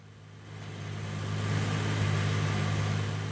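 Car engines from traffic in the driving game Farming Simulator 2019 hum steadily and swell as vehicles pass nearby, with a low, rising engine drone and no talking.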